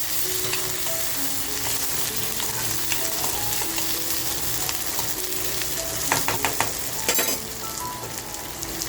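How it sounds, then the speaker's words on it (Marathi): Cherry tomatoes go into a pan while Bombil Manchurian is being fried, and a dense sizzle and crackle follow with stirring clatter and a few sharp scrapes near the end. No one talks. "आता बघा चेरी टॅमॅटो घेतले, ते टाकून घेते."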